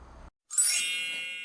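A single bright notification bell ding rings out clearly after a short silence, then sustains and slowly fades with a shimmering metallic tone.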